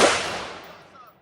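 A single sharp gunshot at an outdoor shooting range, a loud crack at the very start that decays in a long rolling echo over about a second.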